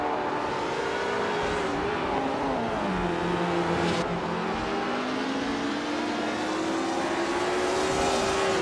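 Race cars racing, engines droning and revving in a continuous loud whine whose pitch dips and climbs as they accelerate, with a brief sharp burst midway and no talking.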